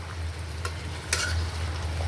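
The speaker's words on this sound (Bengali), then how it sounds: "পেঁয়াজ বেগুন ভাজাটা শেষ," Onion and brinjal frying in a pan, a continuous close sizzle with a low hum beneath and two brief scraping clinks of a stirring utensil.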